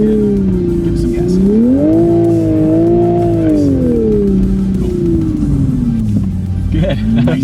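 A sports car on Bridgestone Blizzak snow tires accelerates across a snowy winter driving course, its engine loudly revving and rising and falling in pitch, with tire noise and someone talking faintly.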